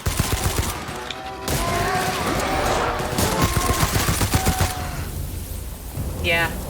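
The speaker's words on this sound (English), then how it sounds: "Yeah, I like the silenced gun, and I like it with the scope." Gunfire from the video game The Outer Worlds, a silenced gun with a scope firing, rapid repeated shots in bursts over continuous game noise, with a short whine or ricochet near the end.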